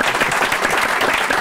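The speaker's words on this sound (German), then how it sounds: "Geben Sie sich selbst einen Applaus." A studio audience applauds at the close of a German political talk show, a dense, steady wash of many hands clapping together, filling the short moment alone without voices.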